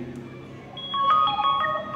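A ringtone preview plays on a Vivo Y12 phone as a short run of bright, melodic tones that starts partway through and carries on clearly to the end, with no talking over it.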